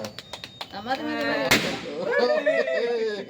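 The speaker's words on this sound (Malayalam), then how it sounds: "കറക്റ്റ് വെടിയും പൊട്ടി" At a birthday party, a single sharp firecracker pop bursts out midway, loud and close, amid people talking.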